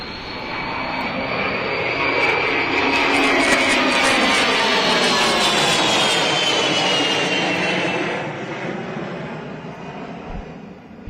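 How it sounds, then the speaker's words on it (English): An E-3 Sentry with four older, smoking jet engines roars past at an air show at Tinker, a loud sweeping whine that swells, holds, then fades as the aircraft moves off. "as we listen to that jet"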